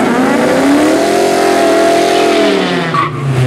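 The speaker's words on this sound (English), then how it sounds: "Good burnout by the black GT." A black Ford Mustang GT does a burnout at a drag strip, producing a loud, close engine roar and screeching tires whose pitch rises and then slowly falls over several seconds.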